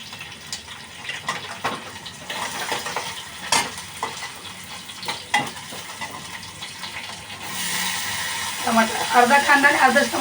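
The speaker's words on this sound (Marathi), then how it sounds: "इकडे चण्याच्या भाजीला फोडणी देते" Chopped onion sizzling in a little hot oil as tempering for a chickpea curry, with stirring scrapes and clatters throughout and a brighter burst of frying near the end.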